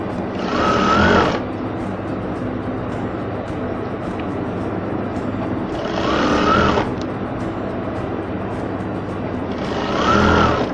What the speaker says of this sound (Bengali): সেলাইটা দিয়ে দিচ্ছি আমরা।